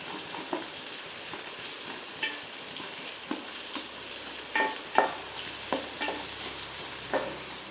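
Onions fry in a pan until golden for an old-style fish curry, giving a steady, close sizzle with repeated sharp scrapes and taps of a stirring spoon at uneven intervals, with no talk.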